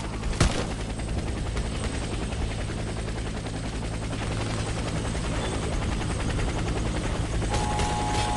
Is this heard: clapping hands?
no